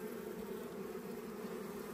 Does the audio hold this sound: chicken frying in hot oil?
no